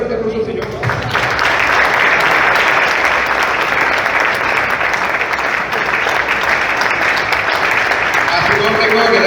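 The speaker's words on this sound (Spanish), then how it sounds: "Den un fuerte aplauso al Señor." Loud, sustained clapping from a church congregation during a Sunday service, swelling in after a brief opening moment and holding dense and even to the end, with a few voices faintly underneath.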